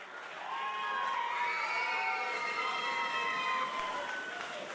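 A crowd cheering and shouting with scattered clapping, high excited voices overlapping in a sustained roar.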